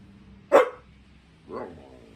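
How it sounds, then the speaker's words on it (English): A dog barks indoors, two separate close barks about a second apart, the first sharp and loud, the second softer, with quiet room tone between them. "Let's see if I just let her bark and don't pay any attention."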